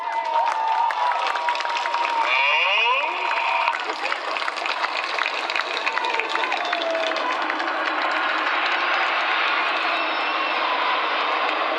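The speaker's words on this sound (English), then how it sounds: "Let's have a round of applause for Apollo." A crowd at the Red Arrows air display in Clacton cheers and applauds in a dense, continuous wash of clapping, steady and moderately loud throughout.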